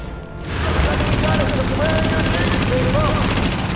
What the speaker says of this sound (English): We got gunfire at the front gate.